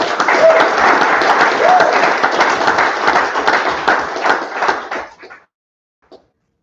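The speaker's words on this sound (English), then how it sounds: "So we need to give Matt a big round of applause." A conference audience gives a big round of applause for a podcast host at an annual meeting for stay-at-home dads, steady and full for about five seconds before cutting off, followed by one brief clap.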